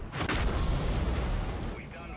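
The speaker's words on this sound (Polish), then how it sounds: "wystrzał." Artillery firing in the World of Tanks tank battle game, a dense, loud, rumbling blast that fills the short moment and decays slowly, with a voice talking over it.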